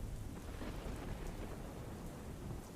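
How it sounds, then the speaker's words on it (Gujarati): Heavy downpour over villages in the Talala area of Gir Somnath, a dense continuous roar of rain falling on surfaces, steady and unbroken throughout. "માધુપર, મોરુકા, બોરવાવ, ગુંદરણ સહિતના જે ગામો છે ત્યાં ધોધમાર વરસાદ નોંધાયો છે"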